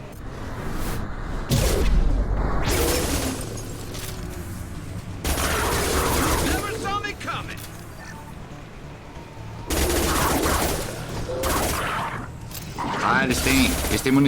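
Weapons fire in the game Mass Effect 2 with freezing ammo, heavy bursts of rapid shots and mechanical clatter starting and stopping in loud waves, mixed with game effects and speech.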